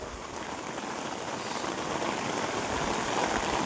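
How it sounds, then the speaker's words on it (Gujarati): Heavy monsoon rain pours during a storm, a dense, unbroken hiss of downpour that stays loud and even, slowly swelling toward the end. "મસ્ત મજાનો વરસાદ આવી ગયો છે."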